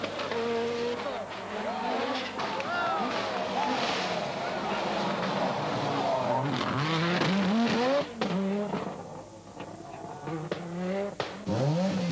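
Röhrl's rally car races flat out at the 1986 Rallye du Portugal, its engine revving and shifting through rising and falling pitches, close and loud under continuous spoken commentary.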